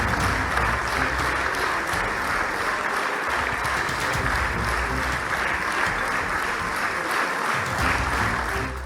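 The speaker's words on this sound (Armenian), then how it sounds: "Քվեարկության արդյունքները ծափահարություններով են ընդունվել։" Sustained applause in a legislative chamber after a vote, a dense, steady wall of clapping from many people at full strength throughout.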